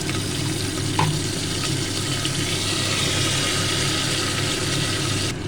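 Ginger paste frying in oil in a pan as water is added, producing a continuous hissing sizzle with a small clink near the start, steady and fairly close with no talking.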